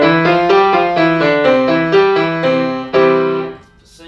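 Piano plays a pentascale exercise, a steady run of single notes stepping up and down the five-note scale in even rhythm, close and clear, with no talking.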